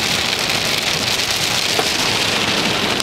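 Steady rain pours down outdoors at a fireworks display site, a dense continuous hiss of drops on surfaces, close and even throughout with no talking.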